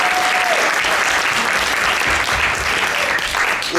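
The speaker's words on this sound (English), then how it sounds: "Let's give one more round of applause for that incredible dance and choreography." Audience at a winter arts night applauding a dance performance, loud and close, a dense, sustained wash of many hands clapping that stays even throughout with no talking.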